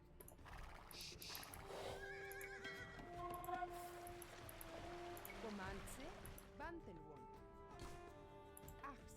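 A horse whinnies in a long, wavering neigh among hoofbeats, flowing water and other effects in Age of Empires II: Definitive Edition, with talk mixed faintly in the background.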